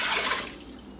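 Water is poured into a jar to rinse out leftover rice during a meal prep, giving a short close splash and trickle that fades after the first half second.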